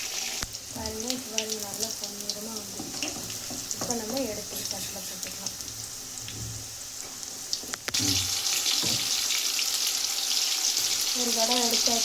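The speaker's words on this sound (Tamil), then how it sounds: "இப்போ அடுத்த தடவை மறுபடியும் போட்டிருக்கேன் இதையும் அதே மாதிரி வறுக்க போகிறோம்" Beef kola balls deep fry in oil with a steady bubbling hiss that grows louder and denser once a fresh batch goes in partway through, while a person talks over the first part.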